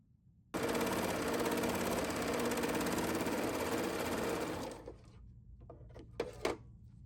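A b68 maker overlock serger sews fabric with an overlock and chain stitch together, giving a loud, steady mechanical whir for about four seconds before stopping, followed by a few light clicks and handling sounds.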